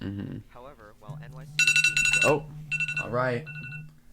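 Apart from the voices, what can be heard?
alarm going off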